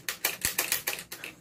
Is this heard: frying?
no